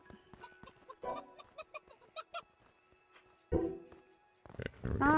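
Chicken clucking in the video game Craftopia: a run of short, regular clucks and squawks, fairly close and clear, followed by louder broadband game noises near the end.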